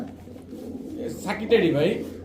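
Pakistani pigeons coo in soft, low, throaty bursts, growing louder toward the end of the clip, with faint room noise beneath.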